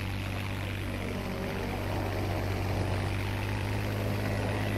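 A P-51 Mustang fighter plane in the video game Battlefield V drones steadily with a constant propeller engine hum, loud and even throughout with no pauses.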